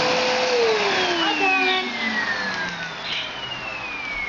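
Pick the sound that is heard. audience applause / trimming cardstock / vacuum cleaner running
vacuum cleaner running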